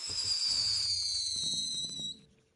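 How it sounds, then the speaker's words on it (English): A barrel of firework TNT in a Minecraft mod goes off with a rising whistle that slides down in pitch, then a scatter of crackling pops before it cuts to silence. No voices are heard. "Here is the firework TNT. Test this bad boy out right here. Literally just a barrel full of rockets"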